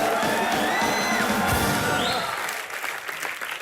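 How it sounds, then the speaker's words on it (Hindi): Studio audience of a comedy television show bursts into loud applause with cheers and whoops, strongest at the start, then tapering off over a few seconds. "जोरदार तालियां इनके लिए।"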